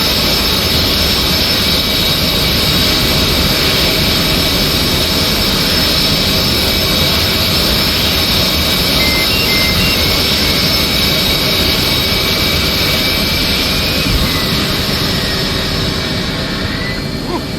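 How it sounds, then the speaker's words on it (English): An F/A-18C jet engine running on its own after the APU shuts down, a loud, unbroken roar and whine that holds steady for the whole stretch, with no voices heard. "APU has shut down, and now we're running just the engine."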